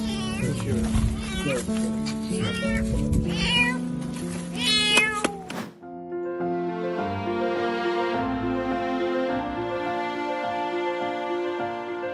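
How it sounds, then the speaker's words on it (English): A cat trapped underground cries out with repeated, insistent meows over narration during the first half, before soft music takes over. "These builders heard a cat's helpless cry"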